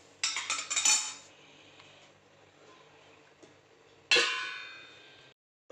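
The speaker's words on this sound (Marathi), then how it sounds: "मी आता ह्याला झाकून ठेवतो" Metal clatter of a lid being handled and set onto a cooking pan of guar bean stir-fry, two bright clanking bursts separated by quiet near-silence, close and alone.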